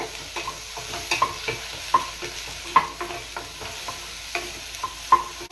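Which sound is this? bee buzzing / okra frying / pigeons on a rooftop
okra frying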